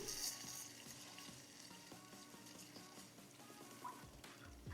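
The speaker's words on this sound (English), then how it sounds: "So I'm just gonna whisk in the sauce." Thai chilies sizzle steadily in a hot pan as tamarind sauce is whisked in, a dense continuous frying hiss with soft scraping and clinks from the whisk, close and alone without talk.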